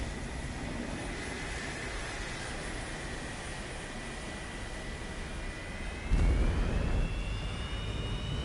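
Su-30 jet engine in the War Thunder video game, a steady loud roar with a rising whine that swells abruptly near the end as takeoff power kicks in.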